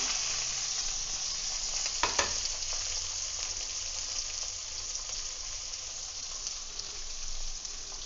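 Brinjal and onion sautéing in a pan, a steady close sizzle with a brief clatter of stirring partway through and no talk.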